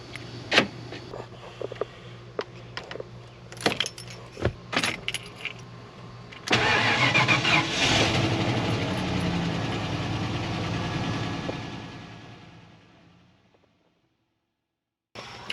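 Keys jangle and clink near a 1995 Ford F-150 before its engine fires up, settling into a close, steady running hum that gradually fades away toward silence.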